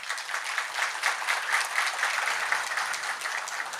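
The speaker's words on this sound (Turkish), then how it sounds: "Onlara sizden bir alkış rica ediyorum." Steady applause from an audience at a bus terminal opening ceremony, a dense wash of many hands clapping at an even level throughout with no voices on top.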